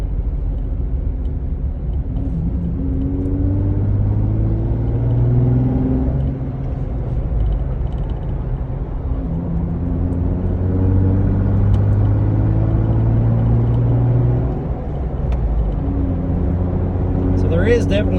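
A Jeep Wrangler JK with no muffler drives along, its engine a deep, throaty rumble that rises and falls in pitch as it shifts and accelerates, steady and close throughout with no talk.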